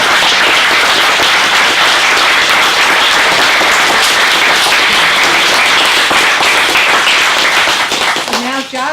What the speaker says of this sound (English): Now we can clap and give them a round of